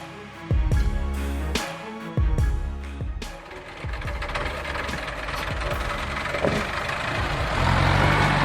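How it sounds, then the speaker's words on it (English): The turbocharged engine of an LKT-81 Turbo logging tractor hauling chained timber roars under heavy load, opening with several sharp bangs and knocks before settling into a loud, steady, gritty mechanical drone. "The LKT-81 Turbo roars as the load bites back."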